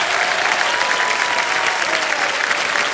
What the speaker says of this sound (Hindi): जब तक ये लोग ताली बजाते रहेंगे